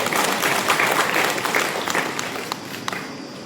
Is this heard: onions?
no